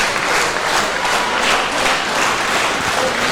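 Crowd at an indie wrestling TV show roars and claps in a continuous loud wash of cheers and applause, with no clear breaks.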